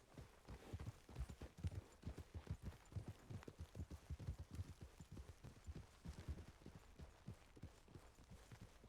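Rapid, steady clip-clop of video game horse hooves at a trot, fairly quiet and continuous, with no voices over it.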